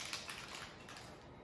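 Cocktail shaker filled with infused vodka, triple sec, grapefruit juice and ice, shaken briefly for a grapefruit and rose sangria, giving a steady close rattling wash with no talk over it.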